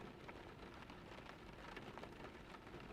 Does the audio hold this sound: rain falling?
yes